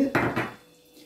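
An egg cracks against a bowl edge in two quick, close knocks, followed by a soft wet spill and then a near-silent tail.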